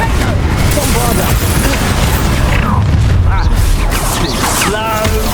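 Combat in Hogwarts Legacy, with a loud, dense wash of booming spell blasts and crashing impacts that fills the whole stretch, while voices shout over the effects.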